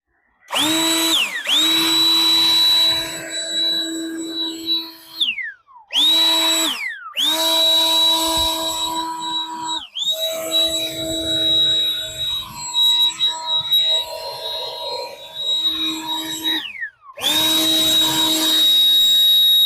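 A small handheld car cleaning gadget runs with a loud, close, high motor whine. It starts and stops several times, and the pitch sags briefly as each run winds down.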